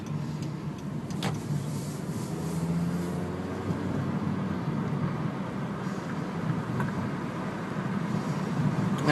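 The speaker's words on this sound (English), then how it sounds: "it still has a little bit of road noise in here, actually" Steady low road rumble fills the cabin of a moving Ford Focus, a continuous broadband hum with no talking over it.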